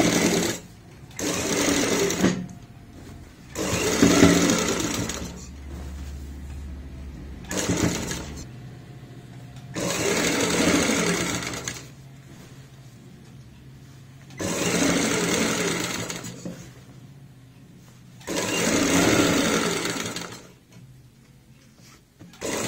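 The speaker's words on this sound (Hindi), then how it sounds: "अब हमें यहाँ पे सिलाई लगानी होती है पेपर पेस्टिंग का" A sewing machine stitches a kurti neckline with a pasted paper layer in repeated runs of steady, close whirring, about five bursts separated by short pauses. No one speaks.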